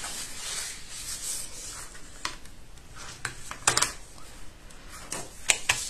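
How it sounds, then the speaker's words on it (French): A bone folder rubbed along paper to crease folds for a scrapbook mini-album, a close continuous rasping scrape with several sharper strokes and taps toward the end. "je marque mes plis au plioir"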